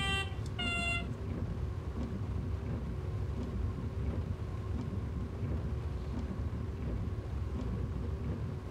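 An Arriva GTW train on the Valleilijn in the game Train Simulator 2015 sounds two quick horn toots at the start, then a steady engine and rail rumble continues with no talking.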